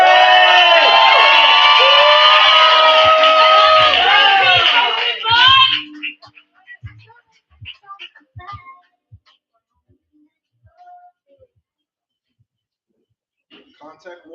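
A crowd at an open mic night cheers and shouts loudly for about six seconds. The noise then cuts to near silence, with a few scattered claps and thumps after it.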